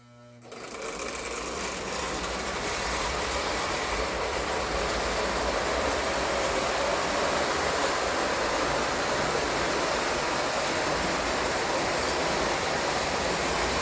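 Vintage toy trains by Ives, Bing and Lionel running on track, a dense continuous whirring rumble that starts abruptly and holds steady and loud throughout.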